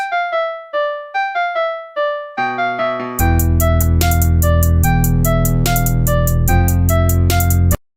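A hip-hop beat coded in TunePad opens with short plucked melodic notes, then drums and bass kick in for a loud, steady, driving groove.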